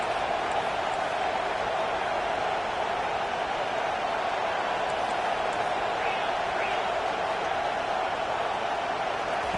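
Roaring stadium crowd in a college football video game, LSU at Ole Miss, a steady loud wash of cheering noise throughout that never lets up.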